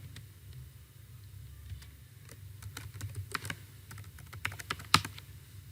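A password is being typed on a computer keyboard: soft, close, irregular key clicks that pick up pace toward the end, quiet against a low steady hum.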